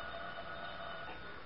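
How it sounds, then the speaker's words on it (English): A telephone rings as a sound effect on a vintage comedy radio show, a continuous bright electric bell ring heard alone and steady throughout. "Answer the phone, Mary."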